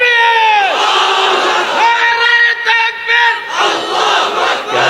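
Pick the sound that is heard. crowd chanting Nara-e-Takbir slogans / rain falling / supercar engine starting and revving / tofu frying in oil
crowd chanting Nara-e-Takbir slogans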